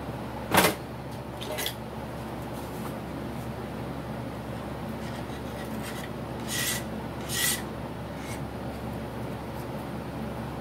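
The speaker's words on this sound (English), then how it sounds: "let me get my burr knife here" A burr knife scraping the edge of a freshly cut bevel gear for a Stirling helicopter in a machine shop, giving a few sharp rasping strokes, the first loudest, then quieter scrapes later over steady low hum.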